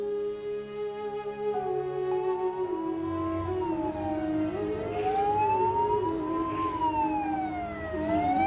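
An ambulance siren wails in a Pakistani TV drama scene, its rising and falling tones sweeping steadily and loudly for several seconds over a low rumble, with no voices.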